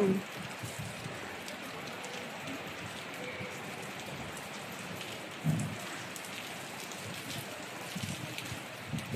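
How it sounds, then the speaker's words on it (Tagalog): Heavy rain pours steadily, drumming on surfaces with a constant hiss and occasional louder splashes. "grabe po ang lakas ng ulan."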